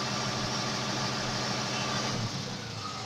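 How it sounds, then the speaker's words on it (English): A car engine idles during a test of the engine oil pressure switch, a steady low hum that runs evenly and fades slightly near the end, with no voices. "Now engine is start."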